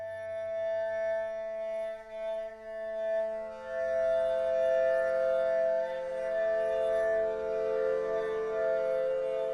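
Omnisphere synth layer built from an electric toothbrush harmonic factory sample, a thin, brittle glassy tone with stacked sustained overtones, swelling brighter partway through and holding steady, quiet and alone.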